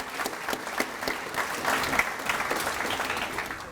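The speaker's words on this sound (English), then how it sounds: "Let's give Christy another round of applause." A hall audience at an annual scholarship awards banquet applauds for several seconds, a dense, steady patter of many hands at moderate volume.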